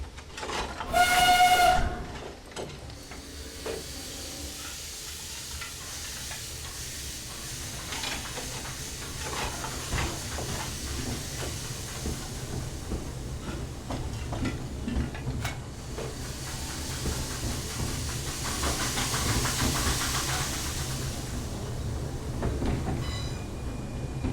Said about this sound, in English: So we've got to reverse our train, it seems.